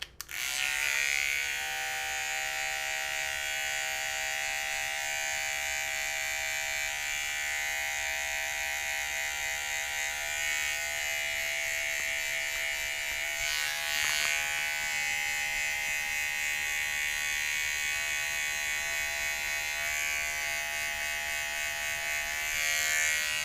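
Electric hair clippers fitted with a number 2 guard, lever open, trim a beard in a steady close buzz that runs unbroken for over twenty seconds, with slight changes in tone as the blade moves through the hair.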